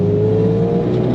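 A Hyundai Genesis Coupe in fourth gear at about 30 mph gives a steady, low engine drone with a faint whirring tone, loud and close and unchanging.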